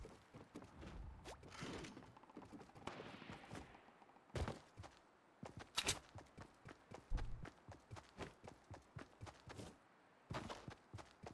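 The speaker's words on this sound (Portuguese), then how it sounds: "Escutei tiro de sniper aqui" Sharp sniper rifle cracks punctuate a busy Fortnite Mobile soundscape, with a few louder isolated shots standing out among rapid clicks and footsteps.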